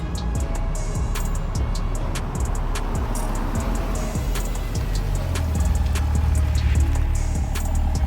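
A 2023 Chevrolet Corvette C8 Z06 is driven hard, producing a steady roar of engine and road noise with scattered ticks and a deeper engine drone swelling near the end, without speech.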